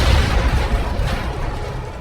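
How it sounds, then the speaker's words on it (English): A massive explosion tears up the ground and flings debris everywhere, heard as a loud, dense, low rumbling blast that roars without a break for about two seconds. "A massive explosion that drags the terrain and throws debris everywhere."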